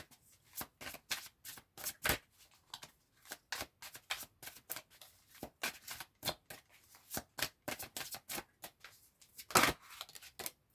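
A tarot card deck is shuffled by hand, giving a quick run of sharp, papery riffles and flicks in an uneven rhythm, close and fairly quiet, with no talk.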